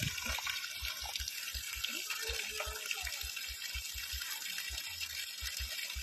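Water gushing steadily from a solar-powered borehole pump's outlet pipe, a continuous rushing splash with a rhythmic thumping beneath it throughout.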